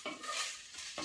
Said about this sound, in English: Now I can hear it sizzling